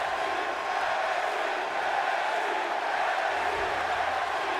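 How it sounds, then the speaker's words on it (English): Virtual arena crowd in a WWE 2K wrestling video game, a steady, loud wash of cheering and crowd roar that holds at an even level throughout with no clear breaks. "just listen to the crowd"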